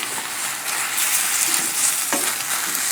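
Brussels sprouts with cracked pepper fry in a pan and are stirred, a continuous close sizzle with a couple of spoon scrapes and no talking.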